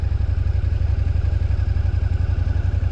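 A motorcycle engine thrums steadily at a low, even pulse close by while the bike rides a left-hand circle, with no voices over it.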